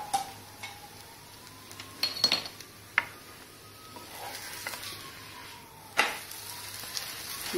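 A makki methi paratha fries in oil on a griddle with a soft, continuous sizzle, while a spatula gives several sharp clinks and scrapes against the metal as it is flipped.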